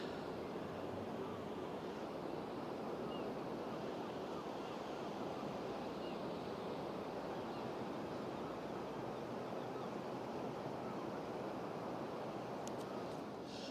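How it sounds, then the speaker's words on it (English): Sea waves washing onto the shore along the Blackpool promenade at sunset, a continuous soft roar of surf that stays even and fairly faint, with a light wind hiss and no talking. "Just listen to the sound of the sea"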